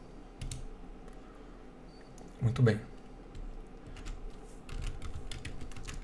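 Keyboard keys clatter in short bursts as shortcuts are pressed and an equation is typed in a math editor, with a brief louder thump midway and someone speaking Portuguese briefly.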